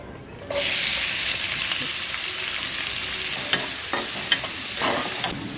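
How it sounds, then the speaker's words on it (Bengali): Chopped onion hits hot oil already seasoned with whole garam masala and cumin seeds, setting off a loud, sustained sizzle with occasional stirring scrapes and crackles. "আগে থেকে পেঁয়াজটা চপ করে রেখেছিলাম, এবার পেঁয়াজটা দিয়ে দেবো এর মধ্যে।"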